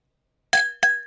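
Two glasses clink together during a toast, two bright ringing chinks a quarter second apart, each leaving a short sustained tone that fades, heard alone and close.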